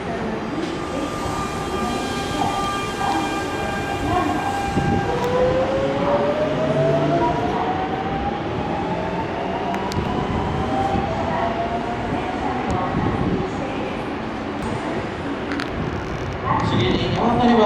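A Nankai limited express Rapi:t train arrives at Sakai station during the evening rush, its rumble and squealing, gliding brake tones filling the platform. A station announcement plays over the noise throughout.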